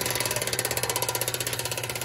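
An Epicson Speed 1 ratchet-type bicycle hub clicking in a fast, even run of close, crisp ticks for about two seconds.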